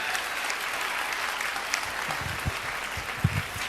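Guests at a wedding celebration clapping in a room, a continuous rattle of applause with some louder claps and faint murmuring underneath.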